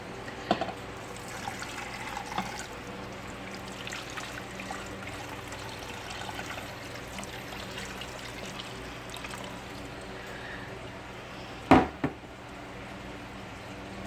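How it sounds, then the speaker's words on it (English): Beef broth is poured into an Instant Pot over a pot roast, a faint continuous liquid trickle running for several seconds, with a sharp knock near the end. "Now I'm going to pour my beef broth over this"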